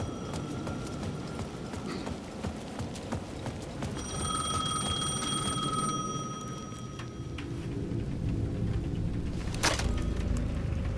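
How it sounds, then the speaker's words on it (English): Payphone ringing at the edge of a plaza in the video game Alan Wake II: a bright electronic ring sounds for a few seconds amid a dense ambient bed of rumble and scattered clatter, followed by continued background noise. "The payphone at the edge of the plaza was ringing again."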